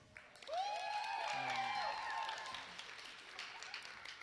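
An audience at a worship event cheers and applauds, with clapping and whoops rising quickly and then tapering off, while a voice speaks over it.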